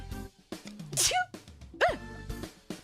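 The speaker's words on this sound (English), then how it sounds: "That's probably the first sneeze on stream in a while." A single sharp sneeze bursts out near the microphone, set among bits of nearby talking.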